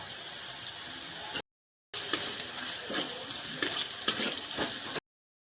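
Onions that have fried to a deep red in oil sizzle and crackle steadily as coriander powder is stirred in, in two bursts separated by a short silence, close and moderately loud with no talking.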